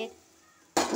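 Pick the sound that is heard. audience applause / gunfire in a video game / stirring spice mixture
stirring spice mixture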